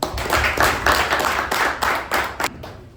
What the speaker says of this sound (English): let us give them a thunderous round of applause